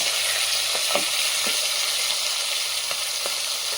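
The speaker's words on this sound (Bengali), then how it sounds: "ওই মাছটা, ওই ধারে মাছটা আরেকবার উল্টে দাও" Fish fries in oil in a wok with a loud, continuous sizzle and a few faint utensil taps.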